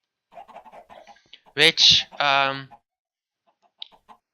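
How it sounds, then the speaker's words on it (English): Baby chickens in the Minecraft video game cluck in a short burst of three or four quick calls, set among steady nearby talk from a person. "Lately there were a lot of baby chickens in there."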